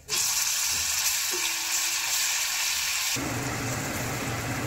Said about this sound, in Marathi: त्याला मस्त परतून घेत आहे